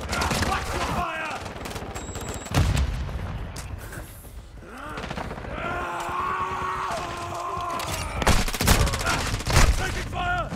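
Heavy gunfire from Call of Duty: Modern Warfare II, with bursts of automatic fire and sharp shots over a steady battle din, loud and close, with in-game radio voices calling out under the fighting.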